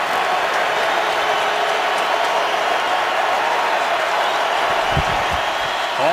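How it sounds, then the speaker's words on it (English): Stadium crowd at an NFL football game, Saints at Colts, roars loudly and steadily as a broad, continuous wash of cheering and noise, with no break across the stretch. "You can hear the crowd getting loud."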